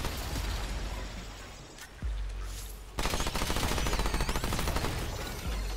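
Summoner-class guns fire in the Remnant 2 video game. A thump and scattered mechanical clatter give way to a loud, rapid burst of automatic fire that rattles on steadily, close and dominant, with no talk.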